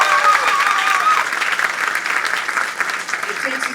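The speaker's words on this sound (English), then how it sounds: "they deserve a real strong round of applause for their work" A crowd at the opening of the DART Silver Line UTD station bursts into strong, sustained applause, with voices and cheers mixed into the clapping throughout.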